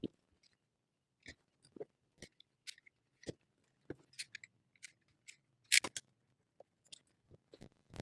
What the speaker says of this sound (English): I'll just actually cut the tubing